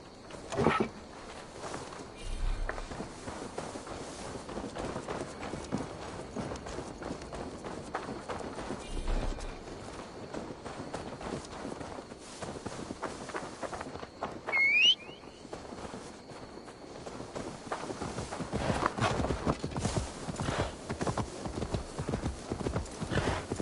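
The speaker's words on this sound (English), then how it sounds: "Now to deliver Magni his horse" A horse gallops in Assassin's Creed Valhalla, its hooves pounding in a fast, continuous clip-clop rhythm, with a brief whinny midway.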